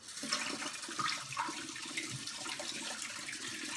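Hands are washed under running water from a kitchen tap while smoked pork shoulder is being prepared, a continuous nearby rush and splatter.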